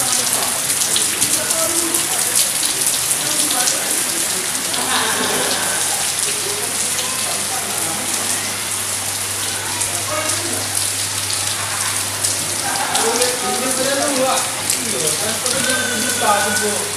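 Steady rain falls at a railway station, Muara Saling, a dense continuous patter heard throughout, with faint voices in the background at times.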